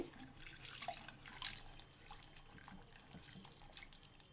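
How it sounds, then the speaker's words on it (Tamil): Water runs and splashes steadily into a container to soak cooking ingredients, a soft continuous trickle with a few brighter drips, fairly close and alone. "தண்ணி ஊற்றி ஊற வச்சுக்கலாம்."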